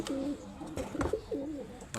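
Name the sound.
domestic pigeons cooing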